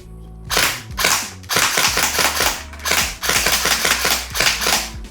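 An airsoft MP7 AEG fires rapid bursts of sharp, snappy shots in several strings separated by short pauses. The shots are loud and close, with no talking.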